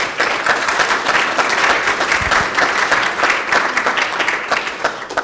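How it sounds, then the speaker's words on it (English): Sustained audience applause at a talk, dense and loud, a continuous wash of many hands clapping throughout with no speech over it. "So let's give them a round of applause."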